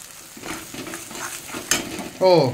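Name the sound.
sizzling tempering of dry chilli, then batter mixture added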